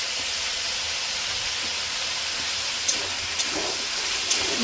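Potato and eggplant fry in a pan with turmeric and chili powder, giving a steady, close hiss of sizzling oil with a few faint pops and no talking.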